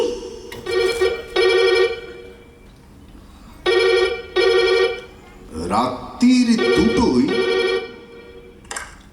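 A telephone rings in repeated double bursts, loud and close, pausing between rings while a person speaks briefly in between.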